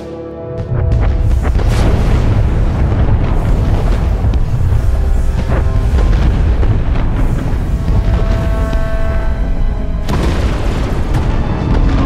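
Heavy bombardment from warships in Star Wars: The Old Republic, a continuous roar of deep booming explosions and rumbling blasts that stays loud and dense throughout, with a fresh burst of impacts near the end.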